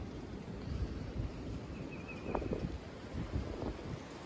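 Wind blows on a gusty day, a soft, steady rushing with rustling and a few brief swells, faint and continuous with no talking.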